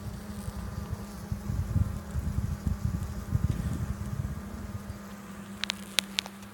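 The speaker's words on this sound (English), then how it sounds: "See this bee? This bee right here is fanning." Honey bees fanning inside a struggling, queenless hive make a dense, steady buzzing drone with fluttering texture, close and continuous, ending with a few faint clicks.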